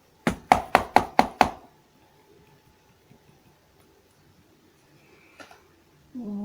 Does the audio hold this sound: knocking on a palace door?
yes